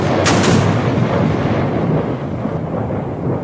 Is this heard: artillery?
yes